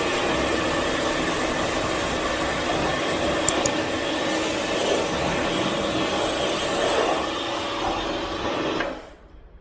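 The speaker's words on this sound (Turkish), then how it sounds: "120 barlık bir basınçlı makine zaten" A Karcher K3 120-bar pressure washer runs steadily with a constant motor whine and spray hiss, close and loud, then cuts off near the end.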